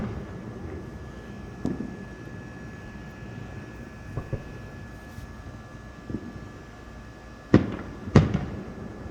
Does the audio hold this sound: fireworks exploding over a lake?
yes